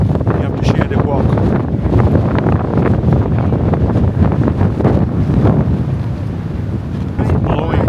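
Strong gusting wind on a mountain ledge near Grindelwald, Switzerland, roars hard against the microphone, a loud, continuous low buffeting that barely lets up.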